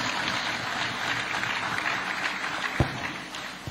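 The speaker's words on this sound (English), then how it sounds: "A round of applause." Clapping from a crowd at a police press conference in Abuja, a steady dense patter with a couple of sharper claps near the end, moderately loud and fairly close.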